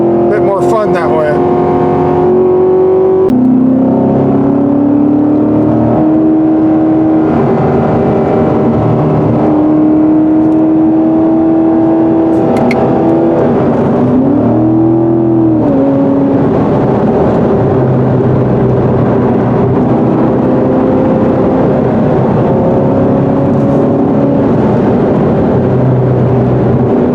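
A 2019 Chevy Corvette convertible drives in sport mode with paddle shifting, its engine droning loudly from close by, with pitch rising and dropping through the gear changes and a voice speaking over it.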